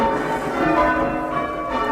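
Rope-pulled church bell ringing in a tower, its sustained metallic tones and overlapping hum filling the space steadily and fairly loud, with no pause across the stretch.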